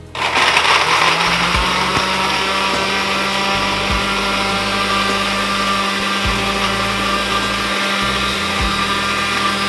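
Kitchen blender whirring through pepper for Ghanaian food, a loud continuous motorized whine with a grinding roar underneath, the pitch dipping briefly a few times as the contents shift, running steadily from start to end.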